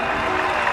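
Cricket stadium crowd applauding a batsman's first Test century against India, a dense, loud wall of clapping and cheering that runs continuously, with a commentator's voice faintly underneath.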